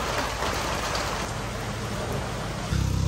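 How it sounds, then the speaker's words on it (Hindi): Heavy rain pours steadily as a dense, loud hiss, with a low rumble joining near the end. "बहुत जोरों की बारिश हो रही है।"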